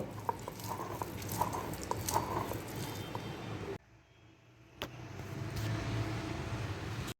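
Dried shrimp paste being ground by hand with onion and garlic, a soft wet squishing and scraping rhythm, close and quiet, broken by a brief pause midway before the grinding resumes.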